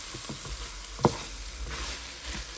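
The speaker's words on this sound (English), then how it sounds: "you stir this up with your ground beef" Ground beef sizzles in a pan as it is stirred, a steady soft frying hiss with light scraping and one sharp knock of the utensil against the pan.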